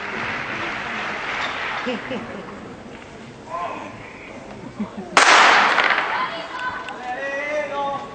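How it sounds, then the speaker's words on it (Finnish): A starting pistol cracks once, sharp and loud, in the indoor Pirkkahalli athletics hall, followed by echoing crowd noise, with an announcer talking beforehand. "Pistoli pamahti viimeisen kerran täällä Pirkkahallissa"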